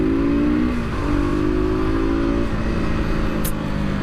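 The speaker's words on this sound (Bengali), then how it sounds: "এত অ্যাগ্রেসিভ লুকিং এর একটা বাইক, সাউন্ড যদি এরকম হয় তাহলে আর কি বলার" A KTM RC 125 BS6 motorcycle engine revving close by, a steady loud buzzing drone with the pitch dipping and climbing again in short throttle blips, running continuously throughout.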